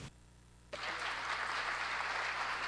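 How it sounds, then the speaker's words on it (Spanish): After a brief quiet pause, applause bursts in from a seated audience at a panel on the press and transparency, steady clapping that continues to the end. "Un aplauso, por favor"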